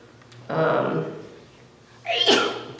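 A single sneeze bursts out near the end, sharp and close, after a stretch of muffled talking.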